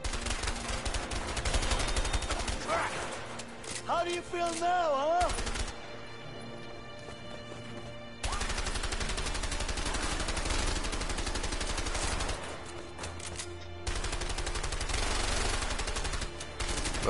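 Gunfire in the video game A Way Out, loud sustained bursts of automatic shots mixed with game music and effects, with a quieter stretch in the middle before the firing resumes.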